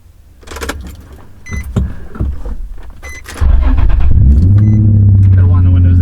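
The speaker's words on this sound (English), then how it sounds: "Gotta wind the windows down." Electric power windows whir down in a modified Nissan 350Z while people talk inside the car, and the engine then settles into a loud, steady idle for the remaining seconds.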